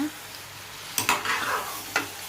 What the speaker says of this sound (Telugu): చికెన్ అంతా యాడ్ చేశాక ఆయిల్ కట్టే వరకు బాగా కలిపేసుకోవాలి